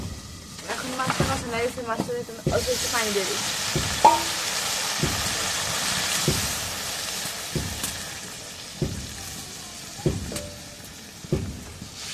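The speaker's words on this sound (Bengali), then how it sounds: "মাছগুলো এগুলো একটু কষাই দিই" Small puti fish frying in a pan, a soft steady sizzle and hiss beneath a woman's speech, with regular light knocks of stirring.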